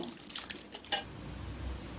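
Bitter gourd pieces are swished by hand in a bowl of turmeric and salt water, giving quiet sloshing and light drips with a small clink, faint and close.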